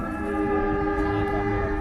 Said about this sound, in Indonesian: Sip, semboyan 41 sudah dibunyikan. Ini berangkat meninggalkan stasiun Cimahi.